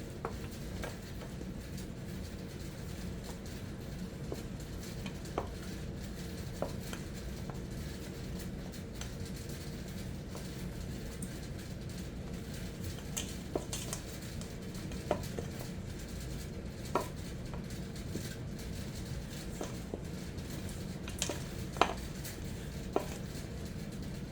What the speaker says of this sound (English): We're gonna stir all that up together